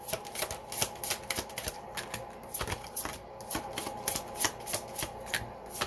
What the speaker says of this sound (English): Let's give this a little shuffle.